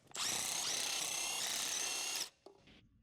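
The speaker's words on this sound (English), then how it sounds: "Use a large 18mm deep socket and a large extension together with a large impact wrench" A large impact wrench with an 18mm deep socket and extension zips off a lug nut on a Jeep Wrangler JK wheel in one loud, continuous burst of about two seconds, followed by a brief clatter.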